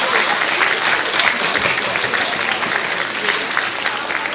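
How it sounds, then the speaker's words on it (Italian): An audience at an evening stage show in Italy applauds steadily and densely throughout, with a few faint crowd murmurs mixed into the even clapping. "per cortesia, con un applauso."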